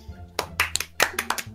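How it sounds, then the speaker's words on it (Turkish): A small group clapping in short uneven bursts, several sharp handclaps spread over a second or so, with a steady low hum underneath. "Bir alkış istiyorum o zaman."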